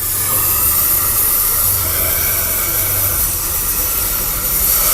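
A gas cutting torch hisses steadily as it slices through the frame of an Exciter motorcycle, a loud, continuous broadband rush that stays even for the whole stretch with a low rumble beneath.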